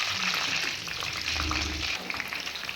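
Brinjal bajji slices sizzle in hot oil as they are turned from side to side, making a steady, close crackling hiss that continues throughout.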